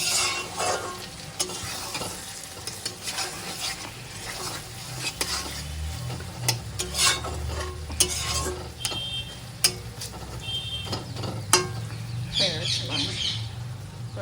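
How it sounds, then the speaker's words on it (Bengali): Chicken curry sizzling and frying in a pan with garam masala while being stirred, the cooking noise steady and close. Scraping rises and falls across the whole stretch, and a few bird calls come through faintly in the background. "গরম মশলা দিয়ে নেড়ে চেড়ে নিয়েছি"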